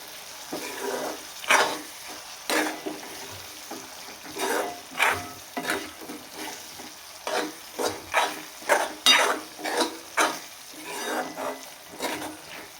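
A cooked vegetable curry being stirred in a pan, giving a series of rhythmic scraping strokes with soft sizzle underneath, close and fairly quiet, with no talking.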